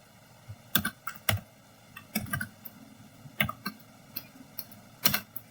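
Scattered clicking keystrokes on a computer keyboard while a switch configuration command is entered, irregular taps and short bursts at moderate distance over a quiet hum, no talking.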